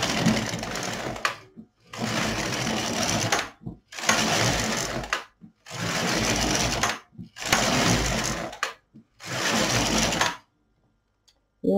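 A Silver Reed LK 150 knitting machine carriage swishes back and forth across the needle bed in six long, even passes of about a second and a half each, separated by brief pauses, loud and close.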